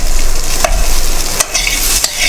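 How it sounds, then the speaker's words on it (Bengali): Boiled potato curry cooks in a pan, giving a steady soft sizzle and stirring noise with a few brief scraping clicks, close and continuous, with no talking. "আর এদিকে বসিয়ে ফেলেছি আলুর তরকারি।"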